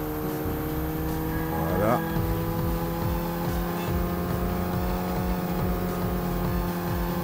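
A race car in the Underground Garage racing game accelerates with a steady, droning engine and rising revs throughout, while a voice speaks briefly over it.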